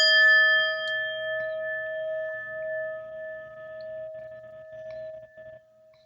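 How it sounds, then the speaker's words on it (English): A single strike on a bell rings out close and clear, its pure sustained tones lingering and slowly fading over several seconds with nothing else heard. "let me hit the bell"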